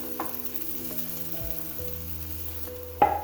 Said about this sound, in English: I'm going to saute this till they start turning translucent.